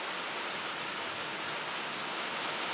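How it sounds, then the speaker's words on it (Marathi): Heavy monsoon rain pours down in a dense, steady hiss of falling water that holds evenly without pause and with no voices over it. "पाऊस आहे ना इतका डेंजर पाऊस आहे"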